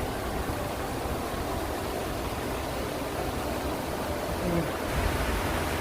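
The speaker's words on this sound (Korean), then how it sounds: "계곡에 물 흐르는 소리." Continuous soft rush of water flowing in a valley stream, even and unbroken, heard alone without talking.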